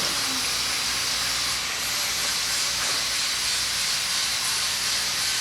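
Cutting open a shock absorber from a Kia Cerato produces a steady, loud, hissing grind that runs unbroken from start to finish.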